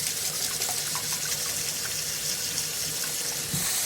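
Water runs steadily from a tap with a constant hiss and splash, no voices.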